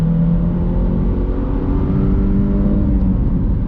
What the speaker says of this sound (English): But let's do another on throttle acceleration here.